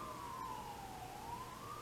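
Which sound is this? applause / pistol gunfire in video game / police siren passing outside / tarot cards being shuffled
police siren passing outside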